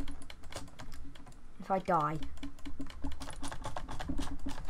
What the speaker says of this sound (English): I'm glad you're not mashing your keyboard or anything